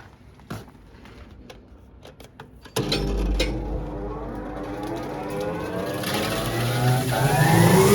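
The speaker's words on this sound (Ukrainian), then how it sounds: "Вмикаємо млин наш." A feed grain mill for pig grower feed starts up partway through: quiet clicks and knocks first, then a sudden loud, steady mechanical roar with rising high whine that keeps running and builds toward the end.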